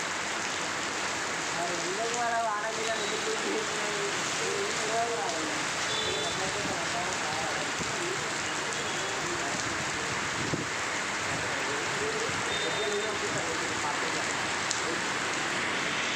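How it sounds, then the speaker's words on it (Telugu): Heavy rain pours steadily and densely throughout, a continuous hiss of drops hitting surfaces, with faint voices buried underneath. "వర్షం బాగా పడుతుందండి"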